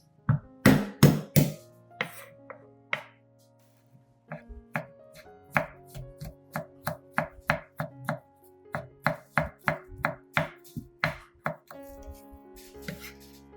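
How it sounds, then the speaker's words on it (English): Garlic cloves chopped on a cutting board with a knife, a few hard heavy thuds at first, then a long, steady series of crisp, evenly paced chops close by with no talking. "I prepared 3 cloves of garlic, peeling and mincing them"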